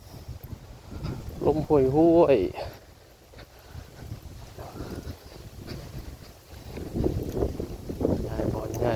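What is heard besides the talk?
wind blowing outdoors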